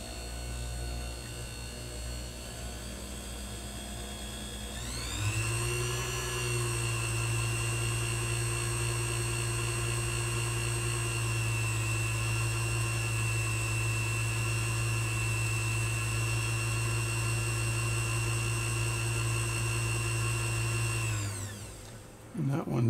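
A small lathe motor spins up and whines steadily while a stone works the pivot of a pocket watch fourth wheel shaft, a close sustained high hum lasting most of the clip before winding down.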